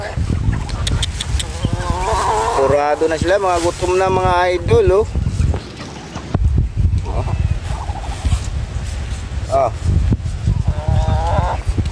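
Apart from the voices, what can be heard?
chickens feeding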